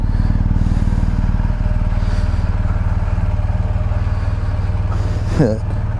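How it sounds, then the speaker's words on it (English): Loud, steady low rumble of a BMW GS motorcycle engine idling up close, with a buzzing metallic resonance from an SW-Motech engine guard and a brief clatter near the end. "That thing resonates sounds like no other."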